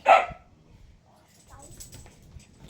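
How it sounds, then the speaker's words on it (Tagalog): Household dogs give a loud, close bark at the start, then quieter yips and shuffling follow in an indoor room. "Tapos ayun pa yung mga aso namin."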